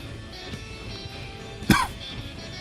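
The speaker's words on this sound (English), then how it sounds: "Yep, there's a cough." A single short cough in a Railroads Online train-driving session, sitting above a steady low engine hum with no talk around it.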